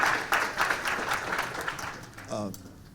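Audience applause at a Selma town hall on restoring the Voting Rights Act: scattered, fairly quiet clapping from a modest crowd, thinning out near the end as a voice begins.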